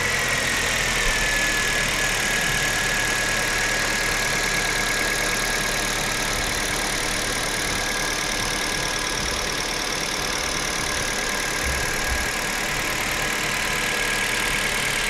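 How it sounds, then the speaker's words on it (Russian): A used Kia Rio engine from the 2011–2017 generation, about 228,000 km on it, idles steadily with a constant close mechanical hum and a faint high whine throughout, no voices. "Работа двигателя на холостых оборотах."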